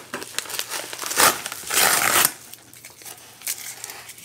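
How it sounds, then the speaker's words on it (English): Strong Amazon package tape being torn open, several loud crinkling rips in bursts, the longest in the middle, close up with no talking. "Amazon tape is strong."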